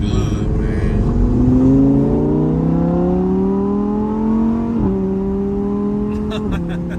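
An Audi R8 Spyder engine revs hard while driving, pitch climbing smoothly through the gears with two sharp shift drops, loud and close inside the car, with brief talk near the end.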